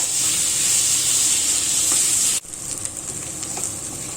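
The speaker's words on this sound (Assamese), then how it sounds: "পিঁয়াজখিনি অলপ ভালকৈ ভাজি ল'ম, অলপ ৰংচোৱা কৰি ল'ম পিঁয়াজখিনি।" Onions fry on a high flame in a pan, giving a loud continuous sizzle that dips abruptly and then continues as a softer crackling hiss.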